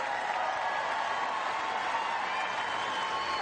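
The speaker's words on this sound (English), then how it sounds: "Crowd doing their bit." Tennis crowd at the 2019 Charleston third-round match applauding steadily, a dense, even wash of clapping and crowd noise with no breaks.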